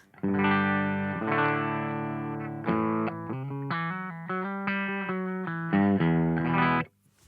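An electric guitar on its bridge pickup played through a Boss SD-1 overdrive pedal: distorted chords and single notes ring out loudly, with a few short runs before it stops.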